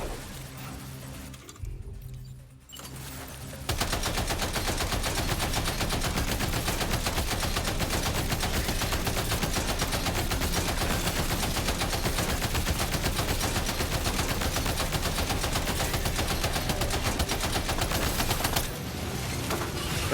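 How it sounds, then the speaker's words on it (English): Sustained machine gun fire in Death Stranding 2, a dense continuous rapid rattle that starts after a brief quieter lead-in and runs loud and unbroken for most of the span, with no talk. "machine gun is crazy"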